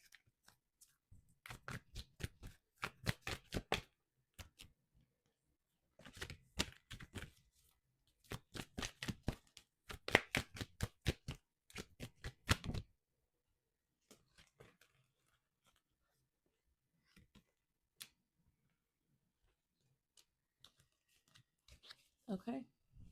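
Tarot cards being shuffled close up, several quick bursts of rapid flicking riffles separated by pauses, with softer single card handling sounds later on.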